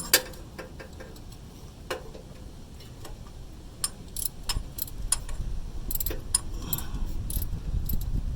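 A wrench cranks on a bolt on a Subaru during coolant and thermostat work, producing faint, irregular metallic clicks and ratcheting ticks up close with a quiet background.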